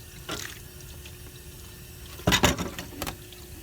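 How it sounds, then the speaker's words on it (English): Running water rinsing ink off a plexiglass printing plate, a soft steady trickle with a louder burst of splashing and flow midway, followed by a few smaller surges. "I can wash off my plexiglass."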